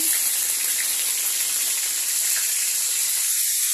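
Green chilies sizzle in hot oil in a home kitchen pan, a steady, loud broadband hiss that holds unbroken throughout with no talk.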